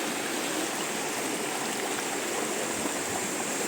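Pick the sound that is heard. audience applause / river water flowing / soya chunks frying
river water flowing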